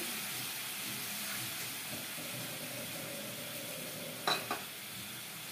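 Whisked sour yogurt is stirred into a hot pan of pointed gourd curry on low flame, giving a steady, close sizzle and hiss, with two quick utensil clicks near the end.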